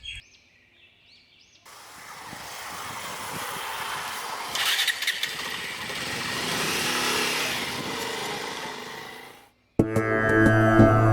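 A motorcycle engine runs for several seconds with a steady mid-pitched drone that rises and falls slightly, then cuts off abruptly before other sound resumes.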